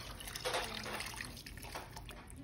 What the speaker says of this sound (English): I'm going to pour the remainder of my carton of vegetable broth in here